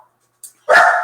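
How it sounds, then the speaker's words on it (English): A single loud dog bark close by in a quiet room, following a faint brief yip. "That is my dog there."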